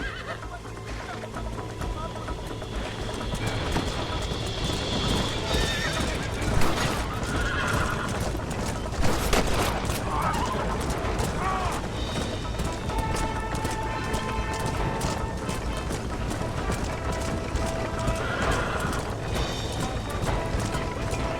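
Video game horse hooves pound in a fast, steady gallop with clattering and rumbling, and the horse neighs loudly a few times over the running.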